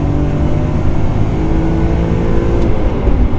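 A BMW M3 E46 pulls hard in second gear, its engine loud and close with a steady droning roar and whine held throughout, no talk over it.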